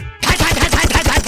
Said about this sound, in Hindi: और दोनों तरफ से फायरिंग।